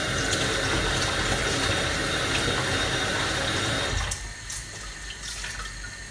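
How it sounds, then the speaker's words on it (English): Steady rush of tap water pouring over a chopping board in a kitchen sink, loud and continuous, then dropping to a softer splashing trickle for the last couple of seconds. "And now I need to give my board a thorough wash"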